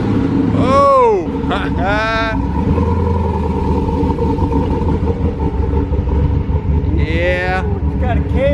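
A V8 LS engine swapped into a Porsche 911 Carrera, fitted with an aftermarket cam, idles with a deep, loud, uneven rumble after a cold start, up close, while excited voices talk and exclaim over it.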